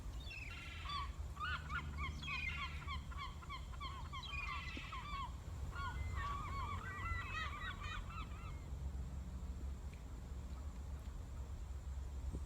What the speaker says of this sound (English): you obviously hear the call of seagulls, but you also hear the sound of the osprey